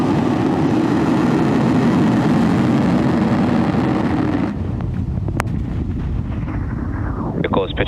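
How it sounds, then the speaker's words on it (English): SpaceX Falcon 9 rocket lifting off: a loud, steady broadband roar that cuts off abruptly partway through, leaving a quieter low rumble with faint higher tones near the end. "Ignition. Liftoff of Falcon 9."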